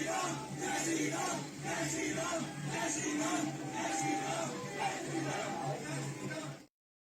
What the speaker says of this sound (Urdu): جی یہ نعرے آپ نے سنے